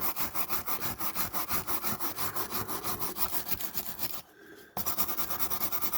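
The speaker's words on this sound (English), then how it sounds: "You're looking to get all the crap off, smoothing it off, giving a key for your paint" Sandpaper rasps back and forth over a diecast model car body in a fast, steady rhythm of close scratchy strokes, smoothing the metal for paint, with one brief pause before the strokes start again.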